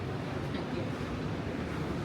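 Ocean waves breaking on a dark San Francisco shoreline, a steady, dense wash of surf rolling on without pause, with wind buffeting the microphone throughout.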